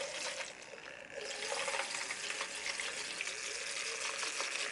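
An electric makeup brush cleaner spins a dirty brush in cleaning solution, giving a steady watery whirring and sloshing that swells slightly after the first second and stays even and fairly quiet.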